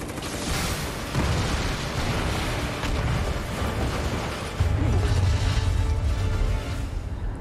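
A loud, sustained rumbling blast with heavy low-end booms and crackling debris, an explosion in Final Fantasy VII Remake, continuing without speech.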